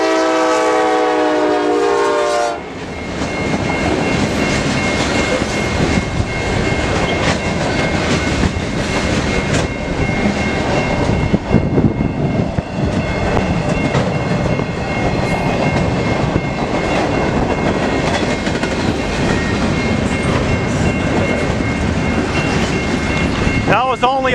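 A CN local freight train passes a road railroad crossing with a loud horn blast at the start, then a continuous heavy roar of wheels and cars rolling by close at hand.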